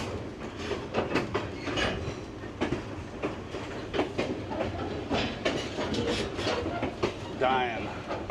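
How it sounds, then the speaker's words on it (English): A steam-powered locomotive rolls along rails with a steady clickety-clack of wheels and rumbling cars, close and continuous, with a faint brief squeal near the end and possible talk underneath. "It's not just any train. This is a steam-powered locomotive."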